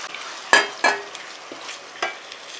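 Chicken pieces go into a hot pan for biryani and are stirred, giving a few sharp scraping clatters and bursts of sizzle over a quiet, soft frying hiss, close by with no voices.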